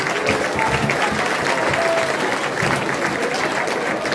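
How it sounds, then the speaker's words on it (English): Another big round of applause from a livestreamed event audience, steady dense clapping throughout with a murmur of crowd underneath, no pause or swell. "Let's give him another huge round of applause."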